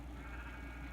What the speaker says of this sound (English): Oh, perfect, some sheep right here.